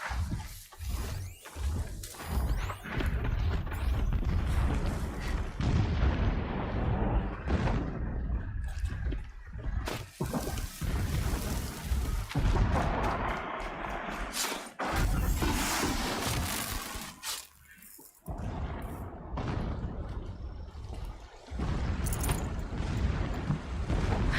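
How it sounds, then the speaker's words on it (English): Distant explosions rumble in Horizon Zero Dawn, heavy booms and crackling debris with roaring noise across a long, loud, busy stretch of game sound, no speech. "explosions in the distance"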